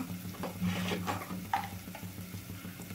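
Spice powders such as chilli and coriander are stirred into a masala in a pan, making soft, irregular scrapes over a low, quiet sizzle.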